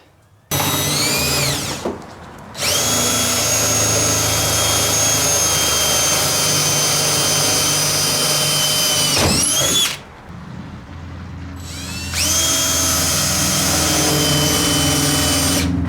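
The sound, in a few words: power drill drilling a hole in a Ford F150 truck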